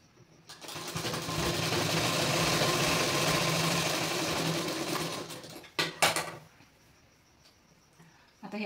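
A sewing machine stitching tucks on a blouse runs in one steady, loud burst for about five seconds, then slows and stops with a few short clatters, leaving quiet handling afterward.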